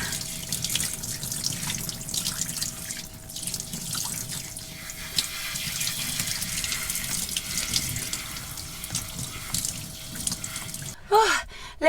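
A bathroom sink tap runs steadily as dyed hair is rinsed under it, the water loud and close with a few drips and splashes, and a brief clatter just before the end.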